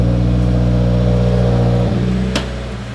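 An AEM fuel pump in a 2020 Subaru WRX runs with a loud, steady mechanical hum and whine that shifts pitch near the end, with a brief sharp click before the level tapers off; no speech.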